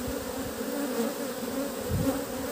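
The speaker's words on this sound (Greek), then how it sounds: "Νέος είμαι στη μελισσοκομεία, ερασιτεχνικά. Έχω 15 μελισσάκια" Honeybees hum around beehives in a small amateur apiary in spring, a continuous, fairly quiet drone of many insects with a faint swell near the end and no talking.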